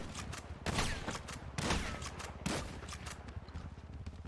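Video game gunfire in a GTA roleplay police shootout with a beanbag shotgun involved, several loud, close bursts of shots that crack out over a constant noisy background, with no talking.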